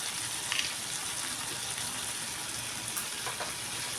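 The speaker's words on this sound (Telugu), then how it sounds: "ఉడుకుతుంది." Curry with green chillies in a pan keeps up a steady, close sizzle and soft bubbling hiss, with a few faint clinks on top.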